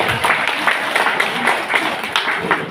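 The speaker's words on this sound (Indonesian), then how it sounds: "Tepuk tangan dulu deh" Audience at an Indonesian religious lecture gives a steady round of clapping, moderately loud and dense throughout, with no speech over it.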